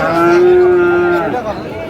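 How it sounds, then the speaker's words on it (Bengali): A Sahiwal bull lets out one long, loud moo close by, lasting over a second before fading into quieter background noise. "মমিন ভাই কি গরুগুলো দেখছেন"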